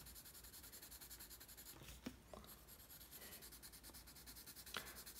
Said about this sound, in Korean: 세로로 명암을 칠해 줄게요.